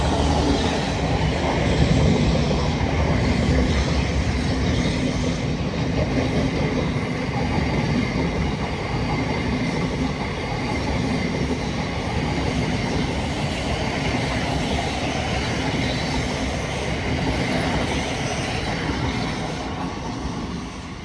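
A Class 700 Thameslink train, unit 700 146, passes through South Croydon on the Brighton Main Line, a loud, steady rumble of wheels and carriages close by that holds for about twenty seconds before easing slightly.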